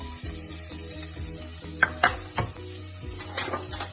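Onions hit a hot pan with cumin and sizzle steadily, with a few sharp clinks of a spoon against the pan and light stirring scrapes, no talk.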